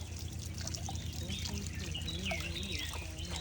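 Irrigation channel water trickles and splashes steadily as a small child plays in it outdoors; voices talk over the water, and a bird calls faintly.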